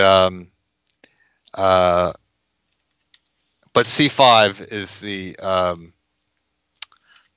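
Light clicks from a computer keyboard tap out sparsely in the pauses between a chess commentator's speech, sounding close and fairly crisp.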